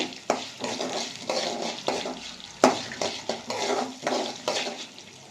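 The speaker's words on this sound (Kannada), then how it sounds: "ಅರ್ಧ ಚಮಚದ ಸೋಂಪು ಜೀರಿಗೆ ಇದು ಮುಕ್ಕಾಲು ಚಮಚ ಇದೆ ಅರ್ಧ ಚಮಚ ಇದೆ ಅದು ಎಲ್ಲ ಫ್ರೈ ಮಾಡ್ಕೊತೀನಿ" Fennel and cumin seeds sizzle and crackle in hot oil for a chicken curry, with a spoon scraping the pan in an irregular stirring rhythm of about nine strokes, heard up close with no talk.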